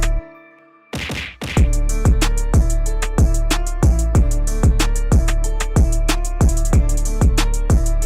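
Repeated jump landings from a kneeling-to-vertical jump drill for lower-body power, about a dozen hard thuds in a steady rhythm, loud and close, with no talking.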